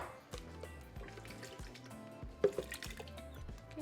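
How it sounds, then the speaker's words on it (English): Water runs into a blender cup in a soft liquid stream with gentle gurgles and a couple of sharper splashes, close and quiet, for a few seconds. "I'm going to add more water to my blender cup."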